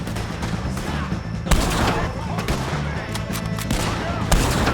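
Gunfire in Red Dead Redemption 2 shows as dense, continuous volleys of overlapping shots with a few louder sharp cracks over a heavy, busy game soundscape.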